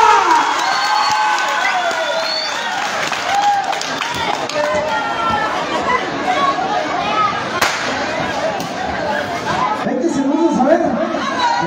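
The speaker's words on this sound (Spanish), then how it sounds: "Venga, los aplausos" A festival crowd applauds and cheers at a wrestling event during the September 16 festivities in Santa María Malacatepec, Ocoyucan. The broad, noisy clapping and shouting run continuously, with an announcer speaking over them.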